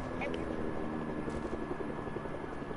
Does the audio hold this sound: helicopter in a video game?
yes